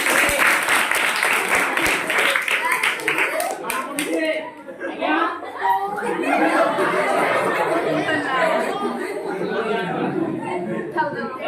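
Audience clapping and cheering at a live magic show, a dense burst of applause for about four seconds that gives way to loud crowd chatter and voices filling the rest.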